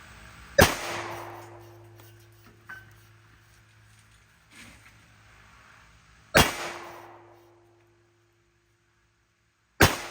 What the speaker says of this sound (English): we'll just see how accurate this gun is